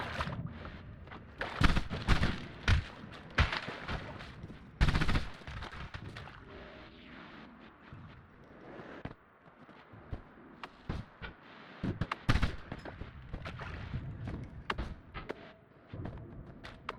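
Explosions in the Noita video game, set off by a spark bolt spell: repeated sharp blasts and crackling bursts in irregular clusters, some loud and close, with quieter gaps between.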